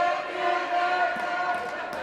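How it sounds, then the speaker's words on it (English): Crowd at an amateur hockey game roaring steadily, a sustained wash of cheering voices with some tonal shouting and a few sharp knocks near the end, loud throughout. "The crowd is into it now"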